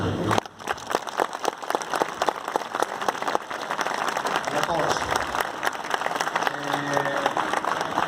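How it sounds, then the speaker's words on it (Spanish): Crowd applause at a book fair talk, a burst of clapping that carries on beneath voices and crowd murmur, with sharper claps early and softer chatter later. "Un aplauso para..."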